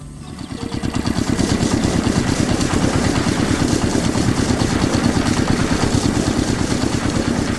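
Large factory machinery runs loud and close, with a steady fast mechanical chugging that swells within the first second and holds constant, and no voices.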